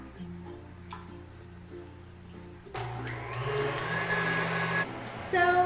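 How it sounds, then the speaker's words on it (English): Electric mixer beating egg whites until foamy for macarons, a steady motor whine that starts low and quiet, then grows louder and busier partway through as the beaters work, close up. "beat your egg whites in the mixer, and you're going to beat the egg whites until they are foamy"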